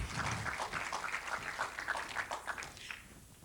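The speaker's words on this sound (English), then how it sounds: "I'd still like to give a round of applause" Applause from an audience at a live healing demonstration event, steady dense clapping that carries on evenly for a few seconds before thinning slightly at the end.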